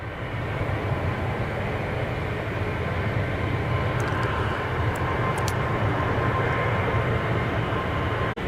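An airplane departs Zurich Kloten Airport with a steady, loud jet roar that holds evenly throughout, broad and rumbling with no voices.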